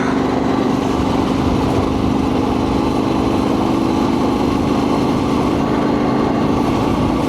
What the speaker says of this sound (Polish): to chyba testują te swoje maszyny do malowania pasów.